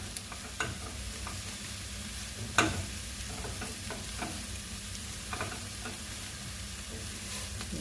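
Sliced fennel and carrots sizzle steadily in a pan while a utensil stirs them, with a few sharp scraping clicks against the pan over the constant frying hiss.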